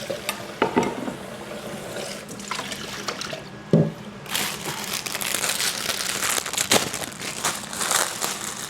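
Cut vegetables, eggplant and beans, rinsed under running water, a steady broadband wash of splashing and trickling with crinkly handling clatter and a louder splash near the middle, close and continuous without talk.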